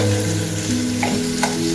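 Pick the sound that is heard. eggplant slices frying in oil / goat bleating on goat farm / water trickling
eggplant slices frying in oil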